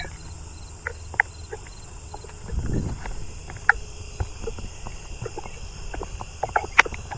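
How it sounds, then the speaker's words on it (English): A fall field cricket chirps faintly in a neighborhood outdoors, its thin high tone sustained beneath scattered small clicks and a brief low rumble near the middle. "There's a fall field cricket."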